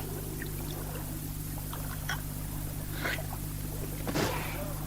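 Water poured from a bottle in a radio drama scene, a soft trickling pour with faint splashes over a steady low hum, fairly quiet.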